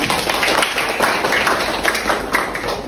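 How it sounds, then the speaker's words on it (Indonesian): Students clapping their hands in a classroom during a lesson, a dense burst of close, continuous applause that holds at an even level with no speech over it. "Tepuk tangan."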